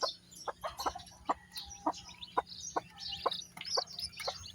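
Chickens cluck in short, repeated bursts, several birds close by with a low steady hum underneath and no talking, as they drink medicated water.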